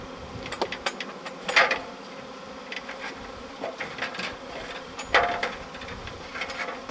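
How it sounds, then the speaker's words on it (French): Honeybees rescued from a ceiling in an agricultural building buzz around a hive frame with a close, continuous hum, as individual insects drone louder as they pass near. "Les abeilles battent le rappel en direction du cadre et ça bat le rappel en direction de la ruche."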